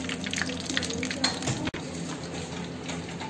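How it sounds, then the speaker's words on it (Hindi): Chicken pieces fry over a low flame for a crispy Dhaka chicken dish, with a soft, steady sizzle and a few light clinks of utensils against the pan. "अब हम इसको लो फ्लेम पे चिकन को फ्राई कर लेंगे।"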